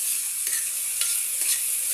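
Bitter gourd (ampalaya) and carrots stir-fry in a pan with a steady, close sizzle, broken by a few quick scraping strokes of the spatula. No one speaks.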